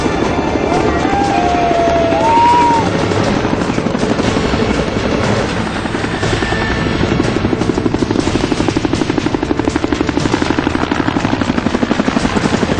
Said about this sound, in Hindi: 10 मिनट में 2 हेलीकॉप्टर लोटस बिजनेस पार्क की हाई राइज बिल्डिंग के ऊपर मंडराने लगे